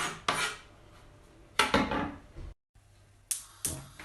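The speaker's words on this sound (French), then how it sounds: "Bien couper mon gingembre, il va bien se mélanger à la sauce." A knife cuts ginger for a coconut-milk shrimp dish, a few sharp chopping knocks against a board separated by quieter scraping, close and clear with a brief silence between strokes.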